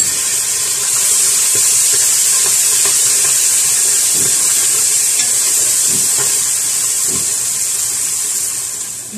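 Garlic ginger paste frying in a pan of oil with cumin while keema with capsicum is cooked, giving a steady loud hissing sizzle close up, with faint stirring taps underneath and no talking.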